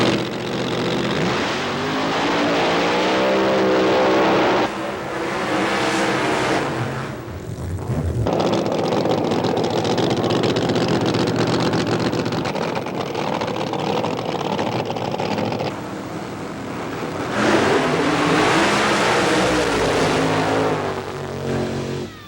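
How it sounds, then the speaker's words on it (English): Alcohol-fuelled funny car drag racers thunder with a harsh, crackling engine roar, surging in loud bursts with brief dips between runs, close and powerful throughout with no talk. "alcohol funny cars are just as rad and just as bad"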